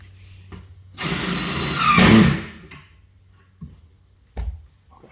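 A power drill drives screws into cleats during a B15 assembly, making one short loud whirring burst that rises and stops, followed by a few scattered knocks and handling thuds.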